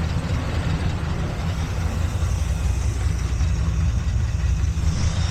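A 1981 GMC C20 Scottsdale pickup engine runs steadily on its own, a loud, close, even low rumble that holds without a break throughout.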